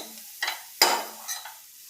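Vegetable masala with salt and lemon juice is stirred in a pan with very little oil, giving a few quiet scraping strokes and a faint sizzle, close and with no talking.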